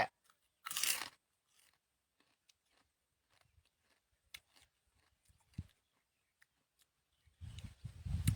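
A crunchy snack from a half-kilo box is bitten and chewed close to the mic. There is a loud bite early on, a run of soft crackly chews, and a heavier crunching burst at the end, with no talk.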